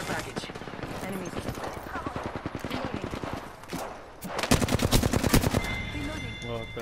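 Rapid automatic gunfire and reloading in a shooter video game, with dense, fast rattling bursts of shots that carry on nearly without a break, growing louder toward the end, while a player talks over the action.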